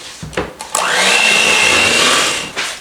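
An electric hand mixer whirs loudly and steadily for about two seconds, beating sugar cookie dough after an egg and vanilla extract are added, with a few short knocks before it starts and a brief bump as it stops.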